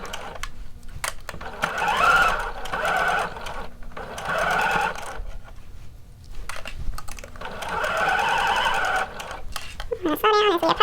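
A sewing machine stitches a 5/8-inch seam on shorts or pants in bursts of steady whirring, pausing between runs for a back stitch. Close and fairly loud, with a voice talking over parts of it.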